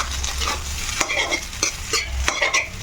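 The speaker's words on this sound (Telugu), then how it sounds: "ఒక ఎగ్ రైస్ బాగా మిక్స్ అయ్యేటట్టు అలా కలుపుకోవాలి" Egg and leftover rice stirred together in a hot pan, with repeated close scraping and tossing strokes over a steady frying sizzle, fairly loud and continuous, no voices present.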